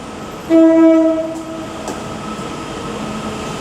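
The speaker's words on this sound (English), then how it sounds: "331013 is now departing with the 1713 Northern service to Wigan Northwestern" A Northern Class 331 electric train departing Liverpool Lime Street gives one loud, sustained horn blast of under a second, then a steady low rumble and station hum continue.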